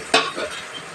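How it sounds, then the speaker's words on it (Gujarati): Muthiya dumplings tipped into a sizzling tempering of oil with turmeric, coriander-cumin powder and salt, a sharp burst at the drop followed by steady hiss and light stirring in the pan. "હવે આપણે એમાં બધા મુઠિયા નાખી દેવાના છે"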